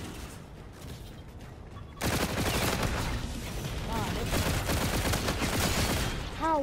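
Rapid bursts of automatic gunfire from the shooter game Infinite Warfare, loud and close, erupting after a quieter opening and continuing in dense volleys to the end, with brief synthetic whooshing tones near the close.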